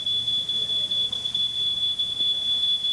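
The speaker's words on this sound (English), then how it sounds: "It took just 20 seconds for the smoke detector to go off." A house smoke detector set off by a wastebasket fire sounds one steady, piercing high-pitched tone that holds unbroken and loud over a faint room hum.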